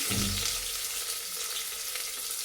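Onion and tomato with kasuri methi drop into hot oil for an egg chicken curry, a loud steady sizzle that starts with a thump and then hisses evenly throughout.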